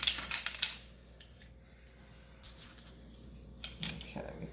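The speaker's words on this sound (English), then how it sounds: "I'm going to mix all this together." Crumb cake ingredients being mixed in a bowl with a utensil, a quick run of clinking, scraping strokes at the start, then quieter scattered taps and clatter, with a person talking at the end.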